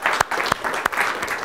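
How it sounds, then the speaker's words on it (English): Audience at a university computer science lecture gives a short round of applause, a dense patter of many hands with a few sharper individual claps standing out, lasting under two seconds. "perhaps just a round of applause for the team for helping us out so much this time"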